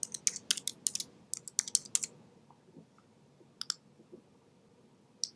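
Fingers typing an email address and password on a computer keyboard, a quick run of crisp key clicks in bursts that thin out to a few isolated taps, close and fairly quiet with no talk.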